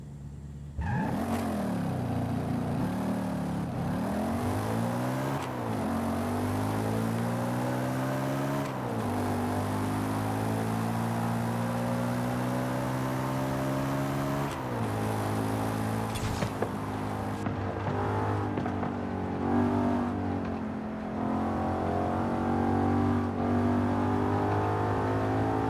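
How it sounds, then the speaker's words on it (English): A deep V8 car engine in Forza Horizon 5 revs and accelerates through repeated gear shifts, its pitch climbing and dropping in long sweeps, loud and close with a rumbling low end and no talk. "the V8 sound that it makes is freaking deep"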